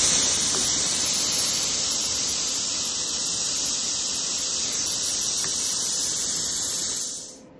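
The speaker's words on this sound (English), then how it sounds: "post flow just sets the amount of time that air flows after you're done cutting" A benchtop plasma cutter set to about 50 PSI releases a loud, steady hiss of post-flow air that continues alone for several seconds and then cuts off abruptly.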